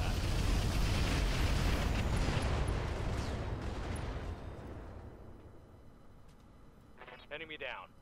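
Heavy mech weapons fire in the Roguetech game, a loud, rumbling, explosive roar that slowly fades away, followed by a brief radio-style voice.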